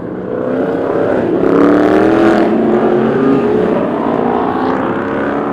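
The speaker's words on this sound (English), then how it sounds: "The Mopars are loud." Loud Mopar cars at a Cars and Coffee meet rev their engines, a sustained, close, throaty roar that swells and holds for several seconds with no talk over it.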